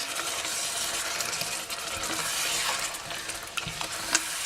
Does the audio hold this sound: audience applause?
no